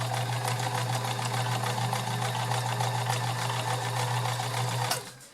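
A vintage Kenmore 1560 convertible free-arm sewing machine runs a zigzag stitch, a steady close mechanical hum with fast rhythmic needle ticking that stops abruptly near the end.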